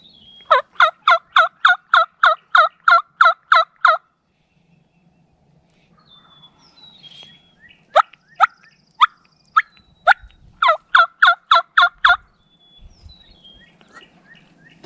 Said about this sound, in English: gobbling at everything I throw at them